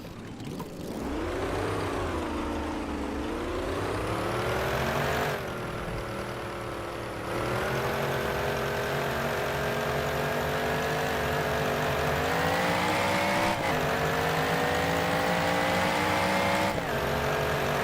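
A 1927 Delage 15S8 race car in the Assetto Corsa game drives toward the pits, its engine revving up and down through gear shifts in a continuous, buzzing, harmonic-rich note.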